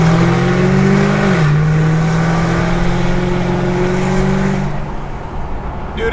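A Chevy SS with an LSA engine revs loudly and close by, the note climbing, dropping briefly at a gear change, then pulling up again before easing off near the end.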